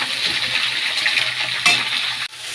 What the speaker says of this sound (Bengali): সবজিগুলো দিয়ে কিছুক্ষণ নেড়ে চেড়ে নিতে হবে